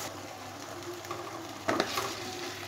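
Cauliflower tossed with spices in a pan sizzles evenly up close, and a sharper scrape of the spoon against the metal comes near the middle.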